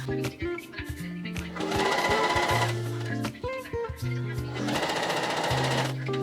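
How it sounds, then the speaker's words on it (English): A sewing machine sews a seam with a 1 centimeter allowance in loud, continuous rattling runs with brief dips, while music plays underneath. "Now we're gonna sew all around with a 1 centimeter seam allowance"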